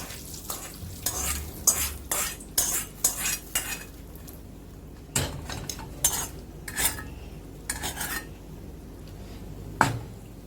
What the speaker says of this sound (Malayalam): ഇത് നമുക്ക് മാവിലോട്ട് ചേർത്ത് കൊടുക്കാം